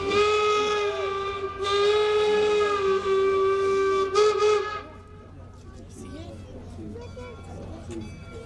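A steam locomotive whistle at the Golden Spike sesquicentennial celebration at Promontory Summit sounds two long, loud, steady blasts, then fades to background rumble and crowd noise.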